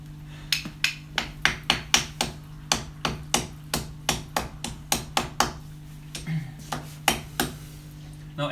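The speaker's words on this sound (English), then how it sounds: "It's not Jurijs hammering the stone right now" Hammer striking stone at an aquarium garden, a steady run of sharp, close metallic knocks roughly three per second for several seconds, evenly paced over a low continuous hum.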